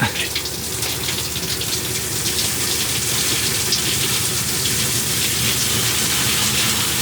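Water gushes steadily from a shower head in a camper van, a loud continuous rushing spray with no pauses.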